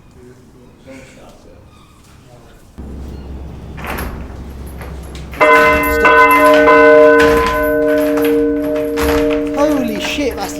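A massive church bell is rung inside an abandoned building in Liverpool, its loud, ringing tones swelling and lingering after a few knocks and shuffles, with people talking and shouting nearby.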